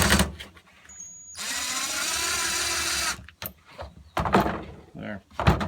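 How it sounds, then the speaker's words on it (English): Power drill bores steadily for a couple of seconds while someone works on a Flo-n-go Superflo fuel siphon, followed by short bursts and clatter amid spoken remarks. "If I can only drill straight."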